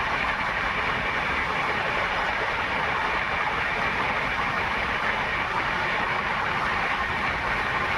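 The Etawah Kota Express runs along the down line at Chandresal railway station, a steady, loud rumble of wheels and carriages that holds evenly throughout with no voices.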